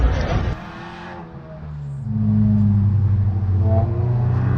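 A race car runs on track during the 24h Adria endurance race, its engine note dipping and then rising into a loud, steady drone heard from on board, with no talking.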